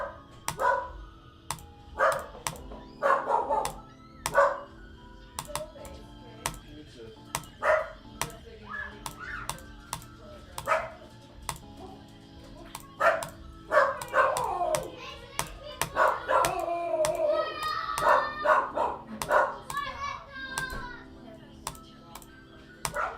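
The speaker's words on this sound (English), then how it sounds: "my dog is barking" A dog barks repeatedly in short, scattered bursts at moderate distance indoors, mixed with clicks, taps and faint children's voices in the background.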